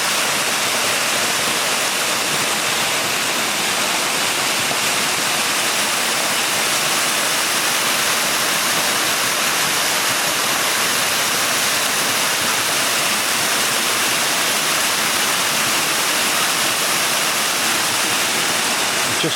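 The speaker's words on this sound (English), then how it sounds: "There we go, there's the waterfall." Waterfall in Wepre woods at night, a steady, broad, unbroken rush of falling water, loud and close, holding constant for the whole stretch.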